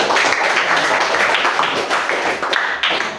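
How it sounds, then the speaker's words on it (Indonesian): Classroom applause from students, a brief patter of many hands clapping at once, fairly close and fading slightly toward the end. "Berikan tepuk tangan kepada."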